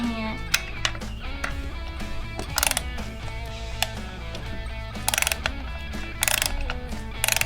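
Hand ratchet clicking in quick bursts of short sharp pawl ticks, with several louder bursts standing out, while tightening the nuts on the cover plate of a Stihl 500i chainsaw, close up and with no talking.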